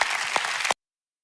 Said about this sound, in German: Lass uns diesem Kettensprengen Gott einen Applaus geben.